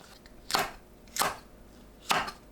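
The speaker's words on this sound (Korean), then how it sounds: "파, 청양고추 1개, 홍고추 1개 어슷 썰어줍니다" A knife slices green onion, a cheongyang chili and a red chili on a cutting board, making three crisp, evenly spaced chops close up with quiet gaps between them.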